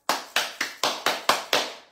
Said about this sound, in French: j'ai beau m'applaudir, ça fait rien